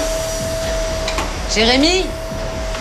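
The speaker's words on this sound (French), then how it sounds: "Je finis de passer l'aspirateur et je le rejoins." A household vacuum cleaner drones steadily in the background with a constant whine while a person briefly calls out over it.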